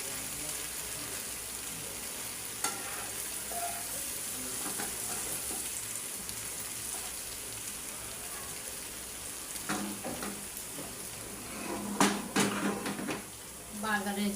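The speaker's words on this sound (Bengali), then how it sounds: "বাগারের জন্য আমি 2টা তেজপাতা, 2টা শুকনো মরিচ আর পেঁয়াজ ভাজা নিলাম।" Bay leaves, dried chilies and onion frying in hot oil for a tempering to finish a dark beef bhuna curry, a steady low sizzle with a few stirring clatters and louder bursts near the end.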